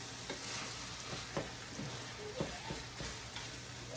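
Greasy ground meat cooks down on a sheet pan for nachos, a continuous soft sizzle with scattered crackles and spatters, fairly quiet and steady, no voices.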